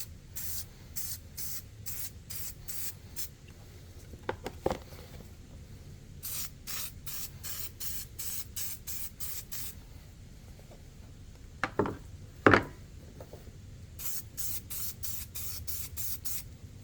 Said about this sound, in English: we're using some Loctite spray adhesive